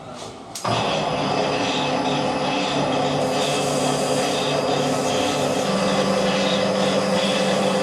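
Burrs are filed from a metal part of a car's distributor; a steady, continuous rasping scrape runs close and loud for several seconds after a brief quieter start.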